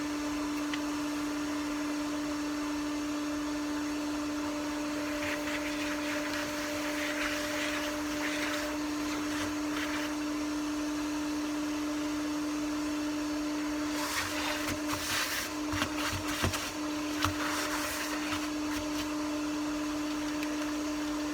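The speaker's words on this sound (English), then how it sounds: "I'll just use the vacuum to vacuum out the inside of this" A vacuum cleaner sucking lint out of a clothes dryer vent hums with a steady motor whine, its airflow hissing and rattling as the nozzle moves, loudest with scraping bursts near the end.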